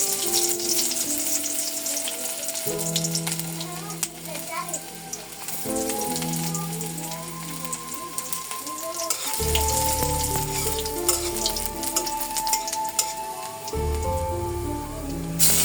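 Chopped garlic and onion hit hot oil in a pan after paneer has been fried, giving a loud, steady, close sizzle with occasional stirring while a voice talks over it and soft music plays.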